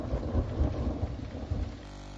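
Rain and rumbling thunder set the mood in a children's story, a dense low roll of thunder over steady rainfall for about two seconds, ending abruptly into a quieter hum.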